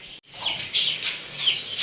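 Backyard chickens cluck at feeding time as grain is scattered for them, with several short, close, high calls overlapping after a brief pause.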